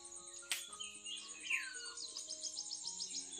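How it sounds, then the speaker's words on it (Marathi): A bird calling at dawn around a home, a quick series of faint, high chirps in a quiet setting, with no talk during the calls. "काय आहे पक्षी आहे बघा."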